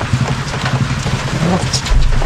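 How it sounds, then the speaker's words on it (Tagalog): Heavy, steady rain falls during a fishing trip at sea, a loud continuous patter with a low rumble underneath, close and unbroken throughout. "Wala problema ulan eh."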